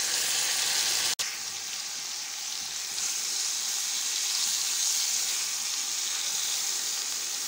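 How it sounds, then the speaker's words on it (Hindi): Chicken frying in a pan for Mughlai chicken, giving a loud, steady hiss and sizzle that carries through the whole stretch, broken once early by a brief sharp cut. "इसको फ्राई कर लेंगे।"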